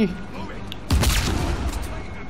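Gunfire and explosions in the video game Uncharted 4 break out suddenly partway through: a loud burst of shots and booms that keeps rumbling on under a man's excited, hurried speech.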